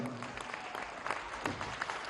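Concert audience in Grozny applauds at a Chechen song concert, a soft, distant patter of clapping hands that continues steadily, with faint crowd murmur underneath.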